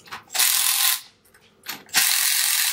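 A ratchet wrench tightens bolts on a GX5 diaphragm pump, two loud close bursts of rapid clicking separated by brief pauses.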